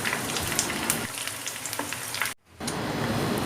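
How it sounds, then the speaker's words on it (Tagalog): Chicken breast fries in a pan with a steady, crackling sizzle of spitting oil, broken by a brief near-silent gap before the sizzling resumes, close and clear with no talking. "You can hear the sounds of it cooking really very well."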